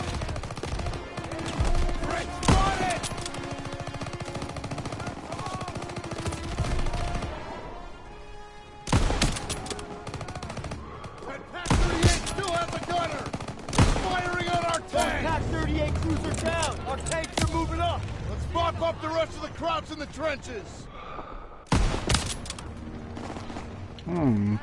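Call of Duty WWII gameplay rattles with repeated gunfire, loud bursts of automatic fire and single sharp rifle shots amid explosions and game music, with a player talking over the action.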